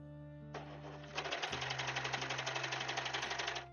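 A sewing machine starts after a low hum and runs at a fast, even, rattling stitch with odd mechanical noises mixed in, close and fairly loud, with no speech.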